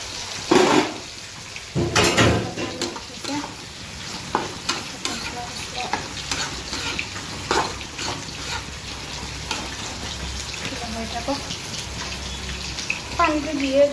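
Water goes into a hot pan of frying fish, giving a burst of loud hissing and bubbling with clanks of a utensil, then a continued stirred simmer over the rest.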